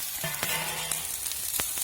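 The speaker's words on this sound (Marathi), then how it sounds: "जेवढ्या आपल्या वड्या बसतील ना टाकून दिलेल्या मी तव्यावर" Alu vadi pieces frying in oil on a hot tawa give a close, steady sizzle broken by a few sharp crackles and pops.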